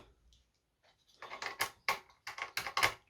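Small screws being driven into an HPE ProLiant MicroServer Gen10 Plus v2 during an upgrade: close, quiet clicks and scraping metal taps in quick irregular bursts, after a near-silent start.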